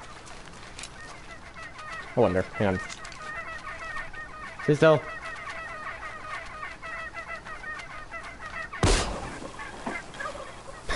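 Turkeys in Shadow of the Tomb Raider give a few short gobbles and clucks, with sharp bursts near the start, the middle and later on, under low game ambience. Someone speaks briefly.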